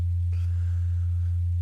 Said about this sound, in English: this is just ring modulating into the sine wave here, and the level's been turned down, so we're just hearing the ring modulated version